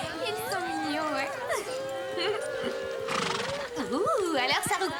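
A horse gives long, loud whinnies with rising and falling pitch, followed by hooves clip-clopping on the ground, with people talking in the background.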